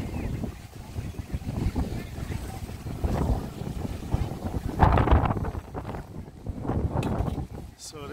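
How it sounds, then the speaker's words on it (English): Strong wind gusting across Eagle Beach, Aruba, roaring and buffeting loudly close to the microphone in uneven surges, with distant surf underneath. "it's very windy here in Aruba"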